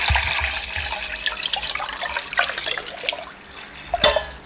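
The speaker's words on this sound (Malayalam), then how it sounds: "പാത്രം മൂടി നിൽക്കുന്ന രീതിയിൽ വെള്ളം ഒഴിക്കണം." Water is poured over brass vessels being soaked for polishing, a close splashing, trickling flow with uneven gurgles and a sharper splash near the end, heard alone without speech.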